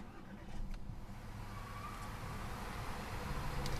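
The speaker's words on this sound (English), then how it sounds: "So once you put your foot on the brake, you can simply turn the key to fire up the engine." A 2015 Audi A3 2.0T Premium Quattro with its 2-liter turbocharged four-cylinder cranks and fires up, settling into a low, steady idle rumble that continues quietly and evenly.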